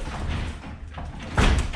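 A garage door is released from its opener and handled manually, giving a short rumbling metallic clunk near the end after a moment of faint shuffling, close and moderately loud with no talk.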